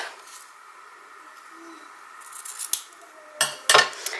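Scissors cutting during a sewing craft project, with a quiet start followed by several crisp snips and clicks of the blades near the end.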